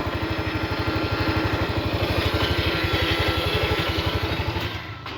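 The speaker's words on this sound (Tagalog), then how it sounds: "pakinggan nyo lang muna pala yung kanyang starter motor" A Yamaha Mio i125 scooter engine being cranked by its starter motor, a fast steady mechanical whirring that runs for several seconds before dropping off at the end.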